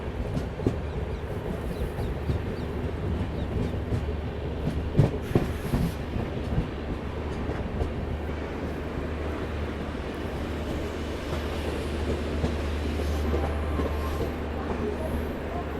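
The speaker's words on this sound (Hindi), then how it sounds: "वहाँ कोई ट्रेन देखो वैप 7 के साथ पहुंची है।" Indian Railways train hauled by a WAP-7 electric locomotive at a station, heard as a continuous loud rumble and clatter of wheels on track, with faint voices and wind buffeting underneath.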